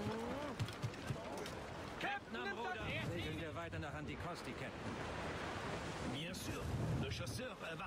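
Rough sea waves and wind wash around a sailing ship in Assassin's Creed Rogue, a continuous loud roaring surge of surf and gusting air, with voices talking over the steady churn.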